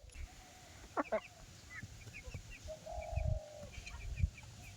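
Laying hens cluck softly at a distance, with a couple of louder calls and some low thumps and rustling nearby.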